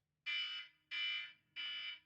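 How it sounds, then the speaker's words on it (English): An electronic alarm marks the end of a five-minute podcast segment, three loud, evenly spaced shrill buzzing beeps, each lasting about half a second, sounding alone. "at the end of 5 minutes, an alarm will go off"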